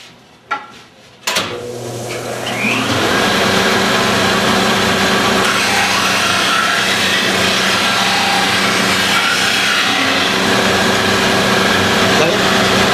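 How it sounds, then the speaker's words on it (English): A vertical belt sander and disc sander in a woodworking club shop switch on after a brief clatter, then settle into a loud, steady whirring drone with a faint high hiss that runs unbroken to the end. "This is a belt sander. Vertical belt sander and a disc sander, okay?"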